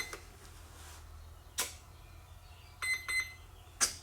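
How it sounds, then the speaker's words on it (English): Two short electronic beeps from a model plane's controller sound close together, with a few clicks and handling noises before and after over a quiet hum. "We got to wait for more beeps."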